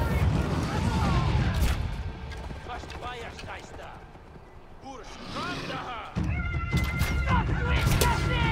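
A saber-tooth cat companion in the Far Cry Primal video game attacks enemies, with growls, snarls and combat thumps mixed with game noise as a player talks over parts of it.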